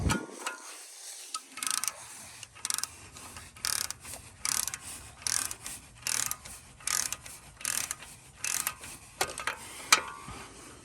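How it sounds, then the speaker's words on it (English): A favorite Walmart ratchet clicks as it turns a 17mm brake caliper bolt on a Toyota Land Cruiser / Lexus LX470, in about a dozen close, sharp bursts of rapid ratcheting with short pauses between them. "This is my favorite ratchet."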